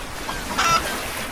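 A short honking squawk from chickens splashing in water in Minecraft, rising briefly in the middle of the moment over a soft, noisy game background.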